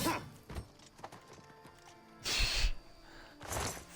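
Horse hooves clip-clop in a fantasy video game alongside a Khajiit character, coming in a few scattered beats with louder bursts of game sound near the end.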